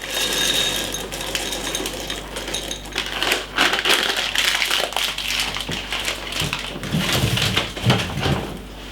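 Dry red kidney beans poured from a glass into a pan, a dense, rattling patter of many small hard grains striking metal, continuing in uneven surges for several seconds.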